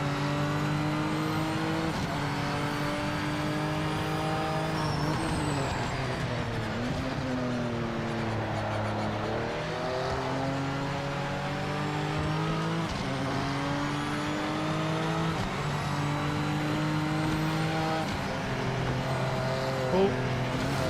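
A GTE race car engine in the Project Motor Racing sim howls steadily throughout, rising and falling through repeated upshifts and downshifts, loud and close, with tyre noise underneath.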